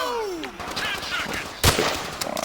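Sniper rifle fire in Call of Duty: World at War, a sharp loud crack standing out amid scattered battlefield gunfire and ambient game noise.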